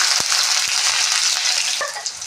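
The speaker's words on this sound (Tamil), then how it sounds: "இப்போது நம்ம இடித்து வச்ச வெங்காயத்தை சேர்த்துக்கலாம்" Crushed onions hit hot oil with clove and green chilli in a clay pot for country chicken gravy, making a loud, close, continuous sizzle with a couple of brief utensil knocks.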